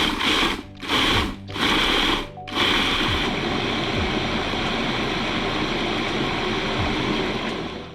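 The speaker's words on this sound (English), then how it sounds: "After about a minute or two of noise, you should have a lovely, spreadable, salty, garlicky puree." Garlic and sea salt being blended into a puree, a machine whirring in a few short pulses before settling into a loud, continuous grinding roar that runs to the end without talk.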